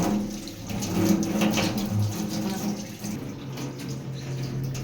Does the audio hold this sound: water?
yes